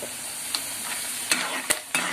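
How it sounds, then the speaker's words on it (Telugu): Peanuts and chana dal fry in a hot pan for pulihora, giving a steady bright sizzle with a few sharp scraping clicks as the spoon stirs, close up and with no talking. "వేరుశనగ గుళ్ళు పచ్చెనపప్పు అయితే బాగా ఫ్రై అయింది కదా"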